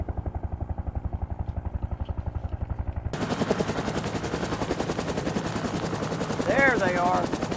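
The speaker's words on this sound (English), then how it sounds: "Chopper's inbound" Military helicopter approaching in a war film: a steady low thumping rotor pulse, then a loud wash of engine and rotor noise as it closes in, with a brief whine near the end.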